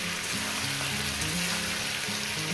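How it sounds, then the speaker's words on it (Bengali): Cauliflower and potato fry in oil in a pan, giving a constant close sizzle with a faint low tonal hum running underneath and no talking. "ফুলকপিটা দিয়ে এবার আমি ভাজতেই থাকবো।"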